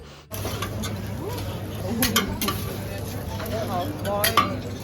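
Eggs and omelettes fry on a griddle at a hotel breakfast buffet in Spain, giving a steady sizzle with scraping and clinking utensils, while people talk nearby.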